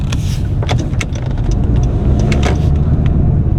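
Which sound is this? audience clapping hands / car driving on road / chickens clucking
car driving on road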